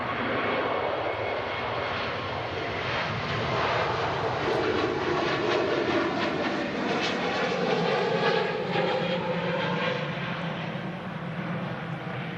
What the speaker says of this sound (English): Lufthansa A321neo in the gorgeous new livery.